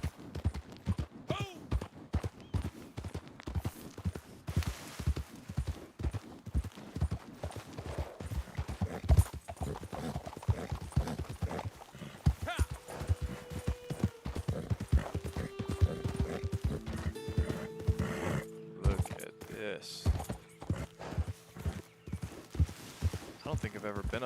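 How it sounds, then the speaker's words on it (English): Horse hooves clip-clopping in a video game, a steady, continuous walking beat that runs the whole way through, with a person talking over it and some sustained tonal sounds partway in. "Does this horse not know how to stop moving?"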